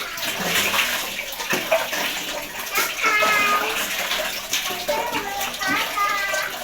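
Water runs steadily from a tap while a sink is washed, a continuous close splashing wash with children's voices and chatter mixed over it.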